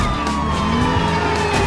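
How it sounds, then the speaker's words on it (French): Police-style car siren in the driving video game Driver San Francisco, a steady wailing tone sounding continuously over engine rumble, loud and close, with no talking. "ici en l'occurrence c'est une petite sirène"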